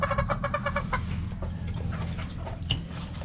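Several chickens, Boston Hatch and Melsim Black fowl, cluck in a rapid run of close calls at first, then keep up scattered softer clucks against a steady low background rumble.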